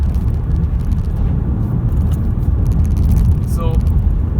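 A 2018 Hyundai i30 GDi Turbo Deluxe drives along a bumpy road, heard from inside as a constant heavy low rumble of road and engine noise with no breaks.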